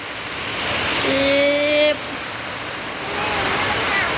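Heavy rain pours down in a rural rice-farming setting, a broad steady hiss that swells and holds, with a brief tonal sound rising over it partway through.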